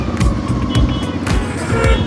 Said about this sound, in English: the traffic is intense now